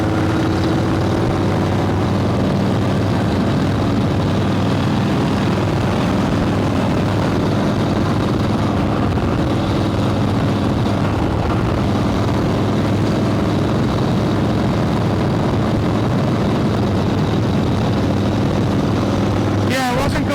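A 1966 Harley-Davidson Shovelhead motorcycle engine drones steadily and loudly while riding, mixed with constant wind rush, with no break across the whole stretch.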